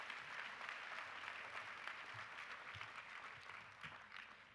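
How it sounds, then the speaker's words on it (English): Ceremony audience at an Ohio State University farewell celebration applauding, a quiet, distant, even wash of clapping that continues without voices and tapers slightly at the end. "another round of applause for the students she mentioned"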